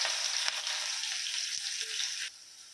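Finely chopped onion hits hot oil and ghee in a pan with mustard seeds and cumin, a bright close sizzle with soft stirring clicks that drops away abruptly toward the end.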